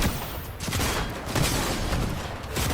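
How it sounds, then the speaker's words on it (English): Fortnite gunfire: a continuous, dense burst of rapid shots fired through tree branches, loud and steady throughout with no pauses and no talking. "You can just shoot right through the branches."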